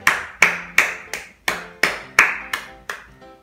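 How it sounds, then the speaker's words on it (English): Someone claps hands nine times in a steady, fairly quick rhythm, each clap sharp and close with short ringing decays and no talking. "I want to clap for this teaser."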